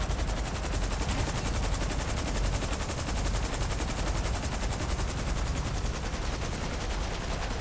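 Sustained rapid pistol and automatic gunfire in GTA 5 Online, a dense continuous barrage of overlapping shots throughout a co-op mission firefight, loud and close with no pauses.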